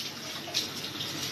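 Aloe vera leaf rinsed under a running tap, giving a steady, soft hiss of flowing water with faint splashy variations and no talking.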